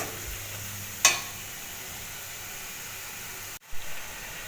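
Food stirred in a hot pan for doi katla gives a soft, steady sizzle with a sharp scrape near the start and a clunk later, faint and close, no talking.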